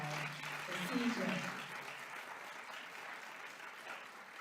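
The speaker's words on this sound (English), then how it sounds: "Can we give another round of applause for CJ?" An audience at a county State of the County budget address claps for CJ in a full, sustained round of applause that swells early and then holds steady, with a voice briefly audible at the start.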